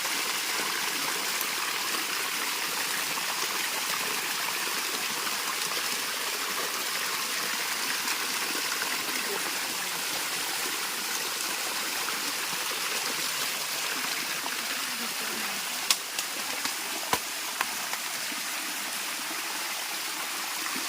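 A small waterfall on a farm pours into a flowing stream, a steady broad rushing roar heard close and unbroken, with a few faint ticks near the end.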